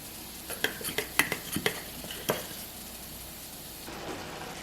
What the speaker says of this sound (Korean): 농도를 보아가며 부어주시고 빠르게 섞은 다음 불을 꺼주세요.